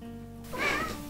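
A single short cat meow rises out of a quiet room, close and fairly soft, lasting under a second.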